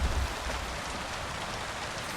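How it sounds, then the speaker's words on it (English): Steady rain in the medieval game Kingdom Come Deliverance 2, a constant close hiss of falling water with a couple of low soft bumps at the start. "Ooh, out of the rain."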